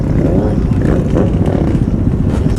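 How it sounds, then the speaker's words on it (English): A two-stroke motorcycle idles and revs loudly up close, a rough, buzzing engine drone that runs steadily throughout. "I can hear that two-stroke tinging in my ears and through the mic into yours"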